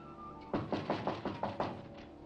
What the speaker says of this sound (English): he'll be knocking in a second